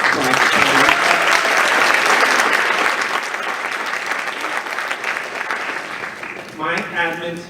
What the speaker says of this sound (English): So again, a nice big round of applause.